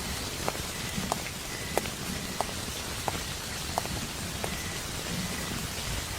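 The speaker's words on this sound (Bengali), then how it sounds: "বৃষ্টির শব্দ" Steady rain falling on a surface during a nor'wester storm at night, with a continuous wash of patter and occasional sharper drips ticking through it.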